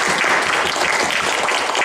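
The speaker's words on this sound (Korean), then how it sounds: "하나님 앞에 감사 박수 한번 드릴 만하죠." A church congregation bursts into thankful applause at a Sunday service, a loud, dense, unbroken roar of many hands clapping together.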